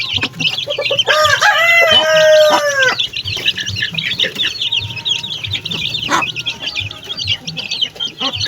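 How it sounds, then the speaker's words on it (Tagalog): Hungry chicks from a third batch peep in a dense, continuous chorus as they are fed, with louder clucks and calls from adult chickens mixed in near the start and no talking. "Mga sisiw, yan. Oh, gutom na gutom yan sila."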